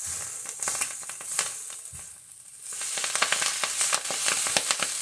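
Collard greens fry in a seasoned skillet, crackling and popping in dense bursts close up, easing into a quieter sizzle briefly before the spitting picks up again with sharp crackles throughout.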